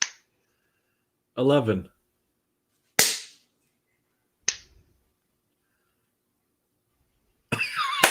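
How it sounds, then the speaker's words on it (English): Separate single hand claps from people on a lagging online call land one at a time with long silent gaps between them. Each clap is sharp and close, and a voice briefly calls out a number between claps. "Wait, did you guys double clap?"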